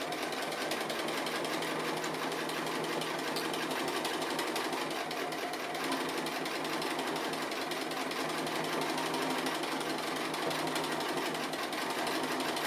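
A sewing machine stitches steadily around a decorative applique piece, a continuous fast mechanical whir and rattle that holds an even level throughout, heard up close with no voices.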